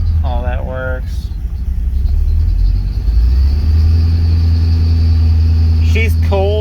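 A cold Corvette V8 idles with a slight uneven lope, a deep steady rumble that thickens after a few seconds, with short beeps and someone talking briefly over it.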